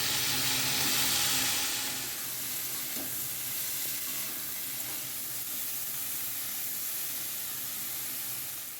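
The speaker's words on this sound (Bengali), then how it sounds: "ভালো করে সবজিগুলো তেলের মধ্যে ভেজে নেব" Eggplant, potato and bean pieces sizzle steadily in hot oil with five-spice seeds, a loud close hiss that eases slightly after the first couple of seconds, with occasional stirring scrapes and no voices.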